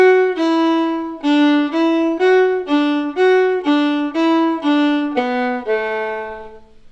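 A fiddle plays a phrase from the reel Hawks and Eagles in standard tuning, a quick run of about a dozen clean bowed notes ending on a held lower note, solo and close with no voice.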